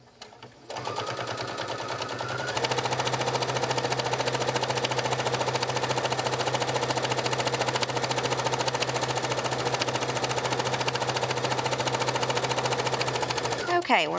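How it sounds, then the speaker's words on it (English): A sewing machine runs steadily and continuously, edge stitching fabric for a circular jewelry pouch. The motor whirs at a constant speed and rises slightly once it gets going, then stops near the end. "the first thing I'm going to do is edge stitch this edge"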